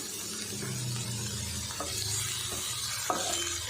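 Tomatoes sautéing in a pan with salt sizzle softly as a spoon stirs them, brief scrapes and clicks over a low frying hiss.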